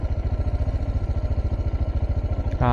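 A motorcycle ridden on a weekend trip toward the Koil Sagar dam rumbles close by with a steady rapid pulsing engine beat, ending in a louder burst.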